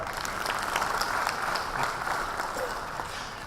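An audience at a leadership talk applauding steadily for a few seconds, a moderate, even patter of many hands with no clear voices over it.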